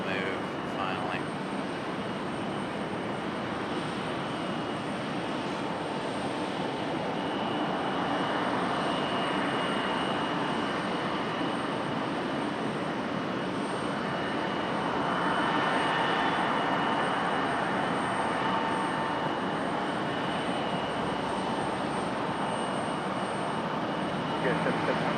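An Icelandair jet taxiing at Raleigh-Durham International Airport gives off a steady, loud engine roar with a high whine, swelling slightly in the middle and holding constant throughout.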